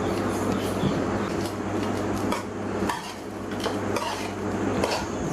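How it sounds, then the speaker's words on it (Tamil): Hot cooked rice is mixed with coriander paste in a pan, giving repeated scraping and clinking of a utensil against metal with a steady low hum underneath, moderately loud and without talk. "இப்போது இந்த பேஸ்ட்டில் சூடான சாப்பாடு போட்டு வெரைட்டி ரைஸ் மாதிரி மிக்ஸ் பண்ண வேண்டியதுதான்."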